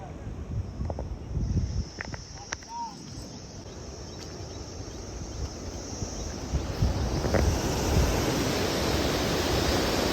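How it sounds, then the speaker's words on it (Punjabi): A continuous broad rush of water flowing through a channel fills the whole stretch, steady and fairly loud, with brief faint tones and clicks above it. "ਪਾਣੀ ਦਾ ਵਹਾਅ ਦੇਖੋ ਤੁਸੀਂ ਨਾਲੀ ਦਾ"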